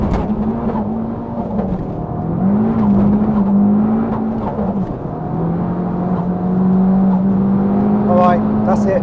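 An Abarth 695 70th anniversary hatchback accelerates hard on a damp road with its wheels spinning, giving a loud rising and falling engine drone that holds close by throughout, with a voice speaking over it.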